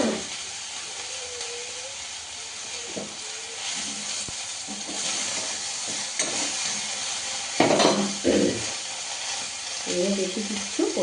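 Radhuni spice tempering sizzles in hot oil for shukto, a Bengali vegetable dish, with a steady frying hiss throughout and a few louder crackles and stirring clatters near the end.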